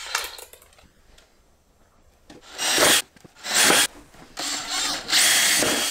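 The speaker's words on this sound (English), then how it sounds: "I'm going to use a 9/32 drill bit for the center one." A power drill whirs in several loud bursts, a 9/32 bit biting into material with short pauses between each hole.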